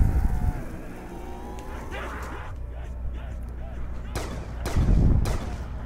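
War Machine grenade launcher in Black Ops 2 Zombies fired in single semi-automatic shots, with a few sharp booming blasts late on over steady game noise and a speaking voice.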